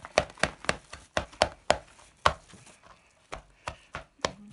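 A knife chops food on a cutting board while a chicken filling for steamed buns is prepared. About a dozen crisp, uneven thuds land close by in quick bursts, with a brief pause midway and no talking.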